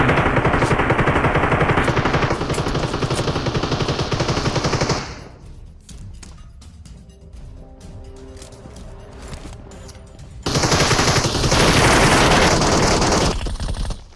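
Heavy rapid-fire gunfire in Metro Royale, a video game, in dense bursts, loud and close, dropping away to a quieter stretch of scattered shots before another long, intense volley.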